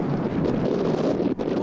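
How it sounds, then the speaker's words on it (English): Steady wind blows across the microphone outdoors on a partly cloudy, sunny day in the desert near Seven Magic Mountains, a continuous broadband rush with a brief dip near the end and no voices. "It's a little windy today"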